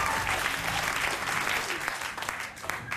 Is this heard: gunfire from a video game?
no